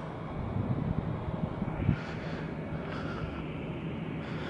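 A Southwest Airlines airplane moves on the ground at Salt Lake City International Airport, giving a steady, broad engine roar heard from a distance across the field with no talk.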